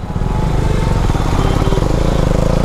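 A 2024 KTM Duke 390 motorcycle engine running in track mode, a loud, steady, close rumbling drone with rapid even firing pulses and no breaks throughout.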